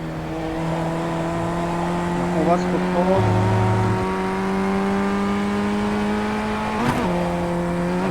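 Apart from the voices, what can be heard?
race car engine revving in iRacing video game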